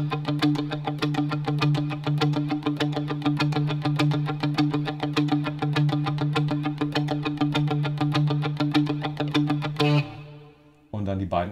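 An electric guitar is strummed in a steady one-two-three-four pattern with no echo effects, loud and continuous for about ten seconds before briefly cutting off and picking up again.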